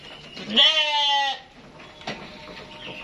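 An F1 Awassi and Merino Batur crossbred sheep lets out one loud, close, wavering bleat lasting under a second, followed by quieter rustling and a faint second sound.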